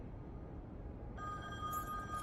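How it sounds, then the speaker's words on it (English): Telephone ringing in the video game The Wolf Among Us, a steady electronic ring that starts about halfway through over a low background murmur, moderately loud and alone without talk. "Oh god, that phone ringing is so annoying."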